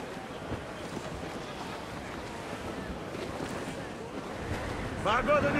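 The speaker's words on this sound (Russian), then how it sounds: "Ветер крепчает." Wind and ocean waves at sea in Assassin's Creed IV: Black Flag, a steady broad rush of surf and gusting wind around a sailing ship, swelling slightly louder at the end with some faint game sounds.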